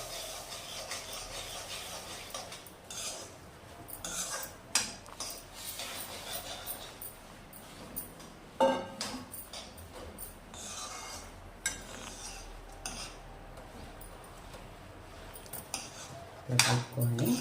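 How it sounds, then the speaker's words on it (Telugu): Puffed rice is stirred into ghee in a pan for murmura laddu, with repeated scraping and clinking of a spoon against metal in irregular strokes over a faint background. "పేలాలు వేసి కలుపుకోవాలి."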